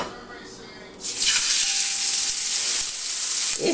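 Fish dropped into a hot pan bursts into a loud, sudden sizzle after a second of quiet, then a sustained close frying hiss with a brief voice near the end.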